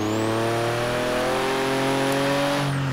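An old classic car's engine revs in the Forza Horizon 3 racing game, a loud, constant, buzzing engine tone that holds steady and then drops off sharply at the end, with no talking.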